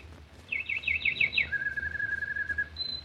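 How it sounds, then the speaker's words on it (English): Birdsong as a sound effect for a morning scene in a 1948 radio soap opera: a rapid series of five rising whistled chirps, then a long sustained trill and a short high note, clear and close over faint background hiss. "David, listen to the birds."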